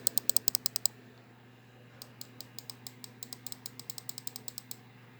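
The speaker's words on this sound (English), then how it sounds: "Listen to this click." Crisp, sharp clicks from a Trust GTX Izza gaming mouse button, a rapid burst of about eight followed after a pause by a longer run of evenly spaced clicks, close and distinct over a faint steady hum.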